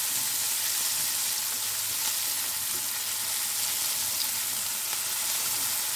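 Onions frying in oil with salt in a pan, a loud, steady, dense sizzle that carries on unbroken with no voices over it.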